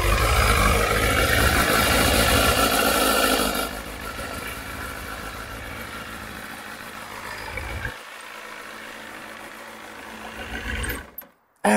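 A Kawasaki ZX9R Ninja motorcycle engine runs at a steady idle, loud and close, then drops to a lower rumble before cutting out near the end.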